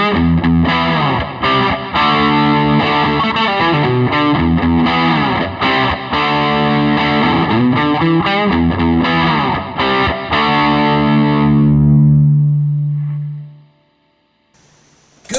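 Electric guitar played through JOYO and Gokko Plexi-style distortion pedals, loud and thick with sustained chords and riffs, ending on a long ringing chord that fades to silence.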